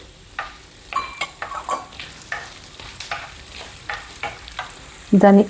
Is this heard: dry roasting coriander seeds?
yes